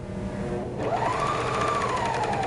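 A BERNINA 1300 MDC overlocker stitches steadily, its fast, even whir rising slightly in pitch partway through and holding at a moderate, close level with no talking.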